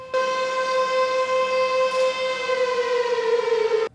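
A civil defense siren sounds an offshore tsunami warning during Taiwan's National Disaster Prevention Day drill: one sustained, steady electronic wail holding its pitch, loud and clear for several seconds.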